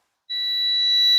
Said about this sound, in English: touch them together to make sure that it is making noise like it's supposed to.